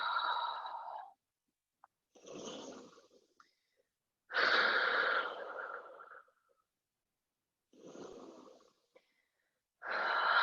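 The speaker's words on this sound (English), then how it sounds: "Take some deep breaths here." Deep breathing during a yoga pose, several slow audible inhales and exhales separated by silent gaps, close and soft, with no talk.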